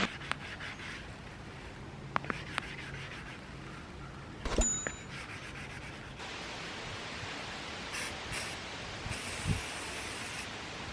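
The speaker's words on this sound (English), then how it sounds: "This spray paint went on like butter." Spray paint hisses from an aerosol can onto balls outdoors on grass, in several bursts, with short separate sprays early on and a longer steady hiss in the second half, fairly close and alone.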